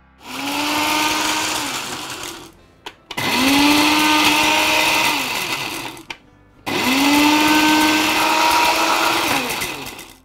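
A kitchen blender grinds gond katira with mishri in three loud, close bursts of high-pitched whirring. Each burst winds up and then strains under the hard load, with short pauses between them.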